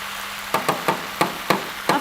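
Butternut is stirred in a cooking pot, six sharp knocks of a spoon against the pot at an uneven rhythm over a soft background hiss.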